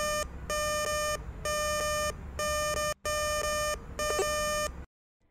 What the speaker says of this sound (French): les indicateurs du niveau de métaux, précieux et non précieux, se déplaceront avec un son uniquement pour le métal précieux